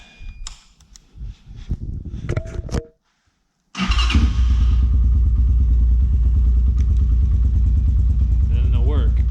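A Tao Tao TBR7 dirt bike starts after a few seconds of clatter and brief talk, then idles loud and steady with a close, continuous chugging engine rumble through the rest.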